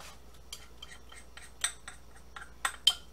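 A knife scraping peanut butter out of a cup makes sparse clicks and short scrapes of metal against the cup. The sounds are close, with a few sharper taps near the end and no speech.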